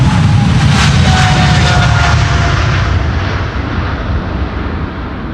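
A KLM jet departs Amsterdam Schiphol's Polderbaan runway for Panama City in windy weather, its loud, close engine roar with a faint whine gradually fading as it climbs away.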